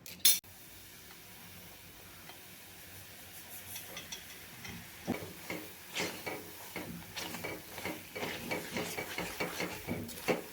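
Semolina is roasted in ghee over a very low flame. After a quiet start, a spoon scrapes and stirs the pan in steady, soft rhythmic strokes, close by and faint.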